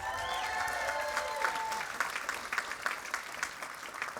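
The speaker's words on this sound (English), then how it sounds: "they deserve a round of applause." A graduation crowd at a college ceremony in Oakland applauds the faculty. Clapping swells in as a few tonal tones fade, then continues as a steady, moderately distant ovation with scattered sharp claps.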